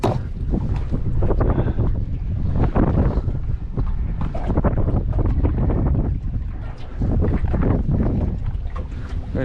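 A fishing boat motors across open water near Cairns with strong wind buffeting the microphone, a loud, rough, continuous roar of wind and hull noise with brief dips.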